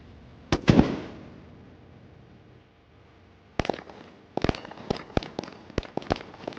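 Gunshots at a SWAT shooting challenge: one sharp report, then a quiet stretch followed by a rapid string of about a dozen close, loud shots in uneven rhythm, with no talk.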